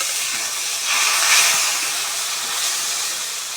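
Spiced water poured into frying masala of turmeric and spices for a ridge gourd, potato and fish curry sets off a steady, loud hissing sizzle that swells briefly partway through, with no voices.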